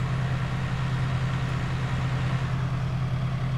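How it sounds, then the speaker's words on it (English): A tractor engine in Farming Simulator 19 runs at a steady, close drone with a strong low hum while it drives back and forth compacting grass in a silage pit, with no voices. "So the way that we compact it is we take a tractor."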